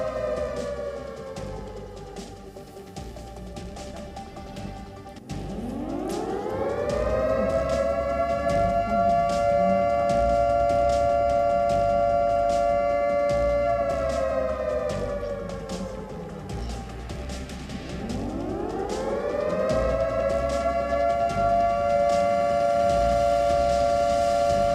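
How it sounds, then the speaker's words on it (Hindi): Air raid sirens wail across Kyiv, each one rising in a long upward sweep to a steady, loud tone that holds and then slowly falls before climbing again. No voices are heard. "कीव के कई इलाकों से सायरन का अलर्ट है, लगातार सायरन वहां पर बज रहा है"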